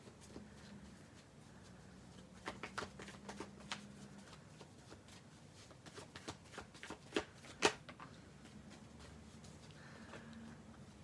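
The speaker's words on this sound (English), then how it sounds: "I'm going to shuffle the cards a little bit." Tarot cards shuffled by hand in a quiet room, a run of soft riffling flutters and sharper snaps and taps, close and clear, with a faint low hum in the background and no talking.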